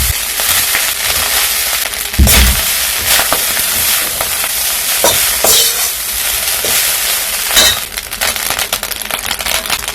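Cooked rice with garlic and turmeric is stir-fried close up, a loud continuous sizzle broken by sharp crackles and clattering spatula strokes against the pan.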